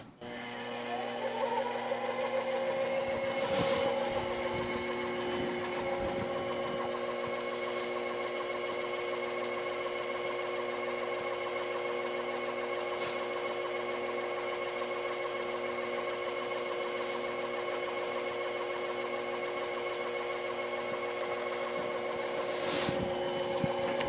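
A metal lathe runs as a boring cutter rubs at the base of a hole, a steady mechanical hum with a faint scraping tone, a few soft knocks near the start, and no talking.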